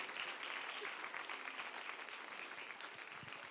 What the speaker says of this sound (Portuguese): Vamos aplaudir bem forte também os nossos atores.